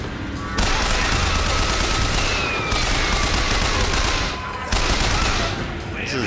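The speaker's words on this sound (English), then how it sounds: "This is definitely a 1912 machine gun." Rapid machine gun fire from a 1912-style machine gun in the video game Bioshock Infinite, loud and dense, with brief pauses between sustained bursts.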